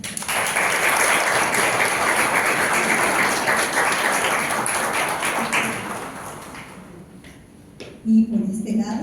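A seminar audience applauds steadily at a World Philosophy Day event, dense clapping that holds for about six seconds, then thins and fades out, with a brief thump near the end.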